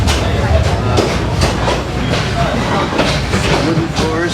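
Old circular train in Yangon rolling along its tracks at about 15 miles an hour, with continuous loud rumbling and rhythmic rattling clatter from the wooden-floored carriage, steady throughout.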